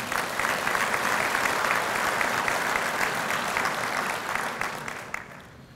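Banquet audience applauding at a 50th anniversary dinner for Select Sires, a loud sustained ovation of many hands clapping that holds steady before tapering off at the end.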